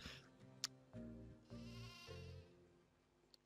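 Sheep bleating in the video game Spyro's Adventure, a few wavering bleats in close succession with a short click, fairly quiet and alone without talk.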